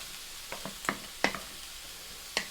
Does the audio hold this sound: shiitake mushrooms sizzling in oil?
yes